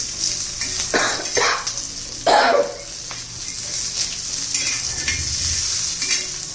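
Peanuts roast in a pan for Kolhapuri thecha with a steady hissing sizzle and a couple of louder scraping stirs, a short clattering burst in the middle, and faint metallic clinks throughout.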